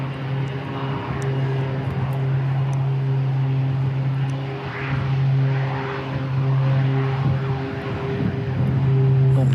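A Boeing 747-400 freighter departing Christchurch Airport, heard as a sustained low engine drone with a strong steady hum, swelling and fading slightly, then growing louder toward the end.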